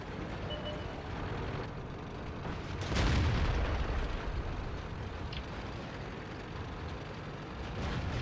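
Tank cannon fire in the World of Tanks video game, one heavy boom rising out of a constant low engine and battle rumble, moderately loud over a dense background.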